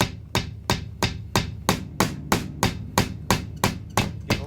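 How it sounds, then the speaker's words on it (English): Bass drum struck repeatedly through a Roland TD20 trigger setup, about a dozen evenly spaced, close thumping hits with sharp attacks and short decays, no voices. "When you hit the drum,"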